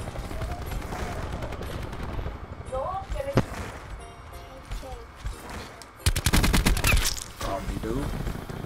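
KN-57 rifle gunfire in Black Ops 4, heard as loud rapid automatic bursts, the heaviest volley coming late, mixed with game sounds and someone talking over the action.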